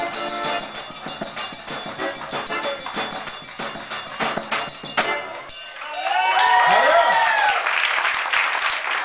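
Audience applause and cheering for a quadrilha junina dance group, crowd clapping rising in the second half after music with singing, mixed with voices and an announcer talking.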